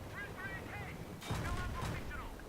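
Gunfire in the military shooter Battlefield 3 swells into a dense, rumbling burst of shots about halfway through, following a stretch of lower game noise and a voice.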